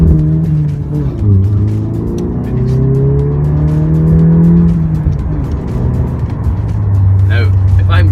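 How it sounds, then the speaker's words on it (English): A VW Golf GTI Performance with an upgraded exhaust drones on a test drive, its engine note rising and falling through gear changes, loud and close from the cabin with brief ticks and a voice speaking near the end. "Take this Golf for a wee test drive just so you can see just what the difference the exhaust makes"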